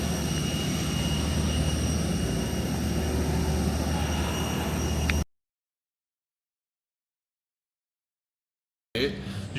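A steady airplane cabin drone hums for several seconds, then cuts to silence before the engine noise briefly returns.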